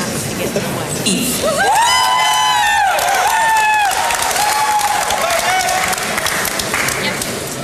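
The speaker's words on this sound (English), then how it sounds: "I'm going to have a big applause" A crowd at a 1999 high school graduation applauds and cheers loudly, with whoops and shouts over continuous clapping. Voices carry through the noise.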